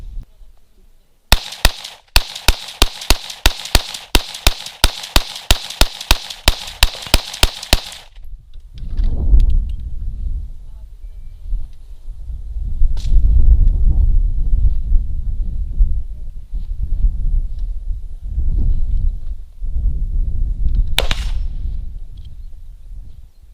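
A rifle fitted with a Hunt World USA 4x32 tactical scope fires about twenty rapid shots at a target in an evenly spaced, loud string, then falls silent apart from wind rumble and a distant pop.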